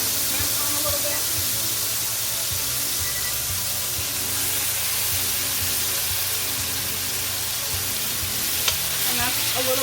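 Pork sizzles and fries steadily in about three tablespoons of oil in a pan, a continuous near hiss with occasional stirring scrapes, for a Portuguese Alentejo-style pork dish.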